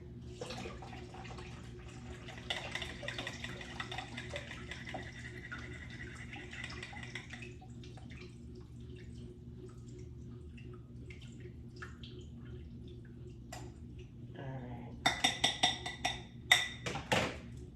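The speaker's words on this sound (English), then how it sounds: "So I strained my oats" Blended oats and water run through a mesh strainer while making homemade oat milk, giving a steady low liquid trickle with light drips and a few sharper splashes and clinks near the end; nobody speaks.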